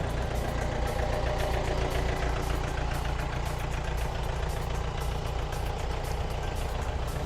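A used Yanmar EF 494T 49-horsepower tractor engine runs steadily at close range, a continuous throbbing diesel rumble with a fast knocking pulse and no voices.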